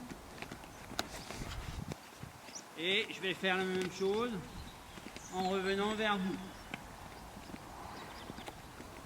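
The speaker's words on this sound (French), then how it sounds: "je peux relancer mon cheval dans l'autre sens, à l'autre main, repartir au trot." A horse's hooves clip-clop in a rhythmic trot throughout, mixed with faint ambient noise, while a rider speaks French over them in two short stretches.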